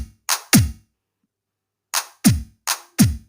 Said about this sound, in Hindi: आपको यहाँ पे सुनाई दे रहा होगा हार्ड किक का साउंड काफ़ी हार्ड हो चुका है